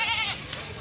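Fat kacang goats in a livestock sale pen, a single loud close bleat for a split second with a bit of background noise after.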